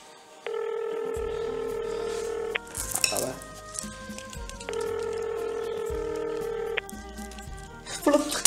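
Two long steady electronic telephone tones, each lasting about two seconds, ring out close by, with rustling and handling noises between and after them.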